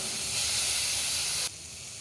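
Grated beetroot sizzles and hisses in a hot pan over a low flame, close and steady, then the sizzle suddenly drops off to a quieter hush.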